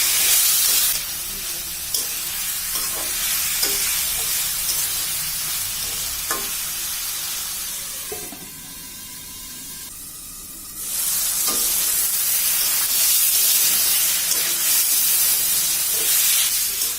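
Elephant foot yam stalks frying in a covered pan: a loud continuous sizzle and hiss that dips briefly quieter midway, then swells back, with faint scraping knocks, no talking.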